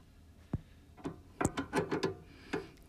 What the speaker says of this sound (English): I'm going with the old crescent wrench. So it's a little slower.